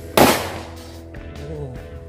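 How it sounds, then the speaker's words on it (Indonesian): A purple Happy Flower firecracker goes off with one sharp, loud bang, followed by quieter crackling and fizzing, with a faint voice in the background. "Yang selanjutnya ini teman-teman kita nyalain mercon Happy Flower warna ungu."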